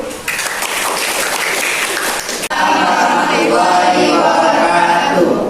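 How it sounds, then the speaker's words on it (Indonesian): An audience at a university teaching session in Palembang claps, dense applause that fills the room, briefly breaks off, then resumes and continues steadily to the end. "boleh tepuk tangan dulu"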